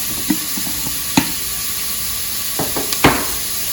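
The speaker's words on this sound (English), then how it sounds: "And now I'm going to mix everything together so that it all has some of the oregano and rosemary on there" A spoon stirs rosemary and oregano into a pot of Tuscan bean soup over a low sizzle, with a few scattered scrapes and knocks against the pot.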